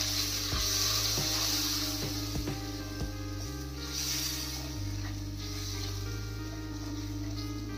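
Spices and red chilli are stirred into a sizzling pan of masala for a paneer curry, with steady frying hiss beneath repeated scraping clicks of a spoon against the pan.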